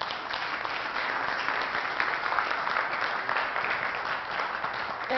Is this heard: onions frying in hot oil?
no